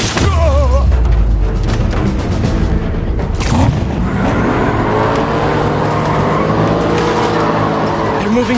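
Race car engines in the Spider-Man 2 video game, loud roaring revs with rising and falling engine pitch and a booming whoosh midway, continuous and close, with voices speaking over them.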